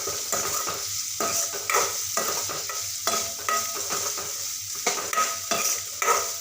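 A spoon stirs cowpea pod curry in a hot pan, giving repeated scraping strokes in a loose rhythm over a soft steady sizzle, close and fairly loud with no talking.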